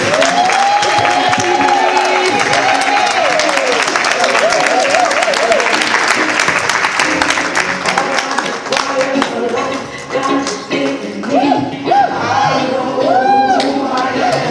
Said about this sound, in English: Can you keep clapping, ladies?